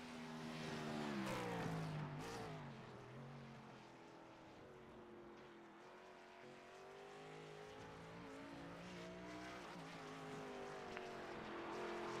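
A race car from a racing game roars down a long backstretch at Sebring, its engine droning steadily with rising and falling gear whines, a sustained fairly quiet drone with no voices.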